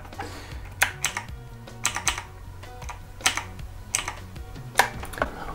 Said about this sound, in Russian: Вот такая, ребят, клавиатура механическая,